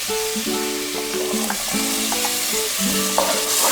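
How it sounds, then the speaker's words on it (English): Garlic and ginger paste sautéing in a pan for dal makhani, a steady close sizzle with soft stirring clinks and scrapes over it, no talking. "After the raw smell of the garlic and ginger goes away, we will be adding our tomato puree to it."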